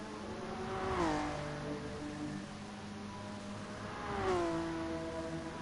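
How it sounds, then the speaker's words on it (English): A GT3 race car on super soft tyres drifting through the cutting at Bathurst in Gran Turismo Sport, engine droning at a distance with two rising-then-falling swells as it passes, fairly faint and with no talk. "There's Edwards drifting it through the cutting on super soft tyres."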